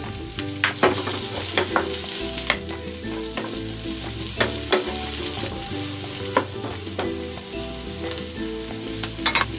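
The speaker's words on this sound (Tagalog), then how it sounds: "Magigisa na ako ng bawang. At ng sibuyas." Garlic and onion sauté in a pan for braised pork, a steady sizzle broken by repeated scraping and stirring clatter of a utensil against the pan, close and continuous throughout.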